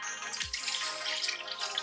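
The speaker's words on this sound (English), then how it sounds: "Then we are going to add 200 ml of our milk. We are going to pour it in." Milk pours into a blender jar at home, a soft, short, liquid trickle with faint splashing that stays quiet and close.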